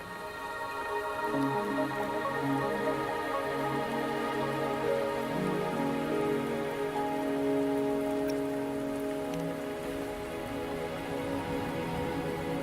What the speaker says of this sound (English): you trapped here by the rain?